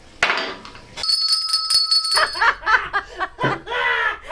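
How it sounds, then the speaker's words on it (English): A small hand bell rings brightly for about a second, followed by laughter and chatter close by. "ring your bell"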